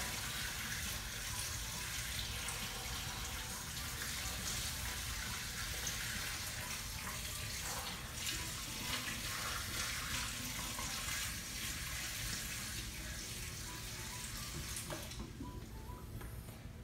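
A steady, hissing stream of water pours continuously into an aquarium tank over rock, with a broad splashing wash throughout.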